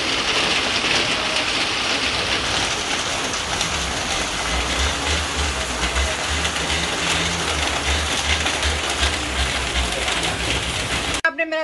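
Heavy rain pours down in a steady, dense hiss with a dull low rumble underneath, unbroken for the whole stretch until an abrupt stop.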